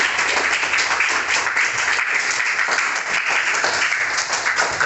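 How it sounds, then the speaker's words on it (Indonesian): A classroom full of students applauding a presenting group, a dense burst of many hands clapping continuously for about five seconds, fairly loud and without speech. "beri tepuk tangan untuk kelompok"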